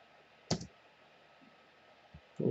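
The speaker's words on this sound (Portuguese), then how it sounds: "Vou pressionando Enter em cada tela" Enter key pressed on a computer keyboard while stepping through a Linux Ubuntu 17.10 installation in a virtual machine; a few sharp, isolated clicks separated by quiet pauses.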